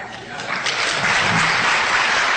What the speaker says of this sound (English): Listen to applause.